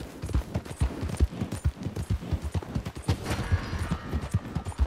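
Horses in Red Dead Redemption 2 trotting nearby, a steady rhythmic clip-clop of hooves close and clear throughout, with no talking over it.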